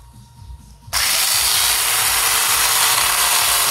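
A chainsaw attachment fitted to an angle grinder bites into wood, switching on abruptly from a quiet start into a loud, steady, harsh high-pitched whine with cutting grit that holds to the end.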